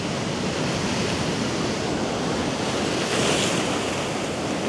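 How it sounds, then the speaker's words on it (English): Ocean surf at a beach at sunrise, a continuous broadband wash of waves breaking close by with wind buffeting the microphone and a slight swell in loudness toward the end. "Just got to be careful of waves."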